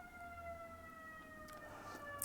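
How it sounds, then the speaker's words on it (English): An ambulance siren wailing as the ambulance drives past outdoors, a steady tone heard at some distance and held throughout, with traffic rumble beneath and a few brief knocks. "hold on here, the ambulance going past"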